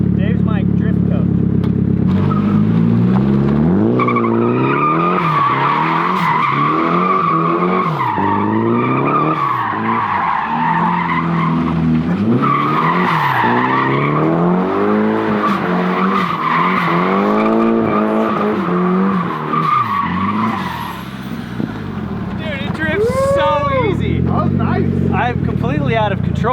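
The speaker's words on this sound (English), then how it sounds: "I'm completely out of control, but it drifts really easy." Nissan 240SX (S13) drift car from 1989 with a welded differential, tires squealing in long wavering skids as the engine revs and surges close by, with people talking over it.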